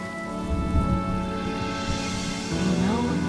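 Steady rain falling in the game Honkai Star Rail, a dense continuous hiss with low rumbling underneath, with music tones layered over the downpour and no speech.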